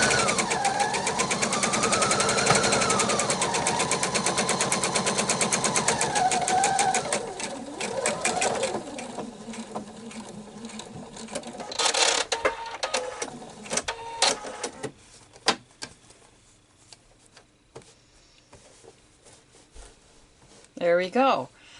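A sewing machine stitches a quilt seam for a scatter-square table topper, a loud steady whirring run followed by shorter bursts and stops, with a person talking over it.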